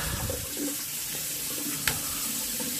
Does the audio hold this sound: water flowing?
yes